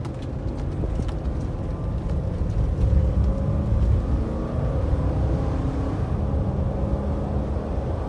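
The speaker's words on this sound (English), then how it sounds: "I'm going to do a little freeway run of the '05 Armada." 2005 Nissan Armada SUV accelerating on a freeway, heard as a steady, loud low engine drone and road rumble from inside the cabin, rising slightly in the middle, with no talking.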